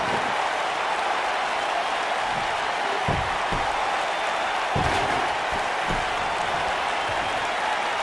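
A wrestling crowd at a live indoor event roaring and applauding after a slam, a dense, continuous wash of cheering with a few thuds and claps, no clear talk on top.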